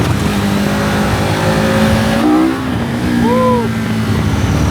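KTM 1390 Super Adventure S Evo motorcycle accelerating on the road, a loud steady engine roar with rising pitch sweeps and a gear change, buried in heavy wind rush from riding.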